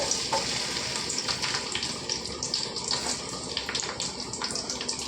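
Onion frying in heated oil for egg fried rice: a steady, dense sizzle and hiss runs through the whole stretch at an even, fairly close level, with no talking over it.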